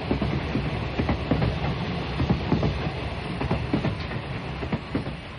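A night train travelling on rails between Tokyo and Nagoya, heard as a radio drama effect: steady rumbling wheel noise with repeated rhythmic clickety-clack beats over the track joints, close and continuous with no voices.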